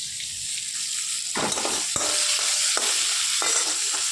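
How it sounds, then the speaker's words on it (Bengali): Pointed gourd (potol) frying in a pan, a constant bright sizzle with several sharp scraping strokes of a spatula stirring at irregular intervals, close and alone. "এখানে পটলগুলোকে ভালো করে ভেজে নিচ্ছি"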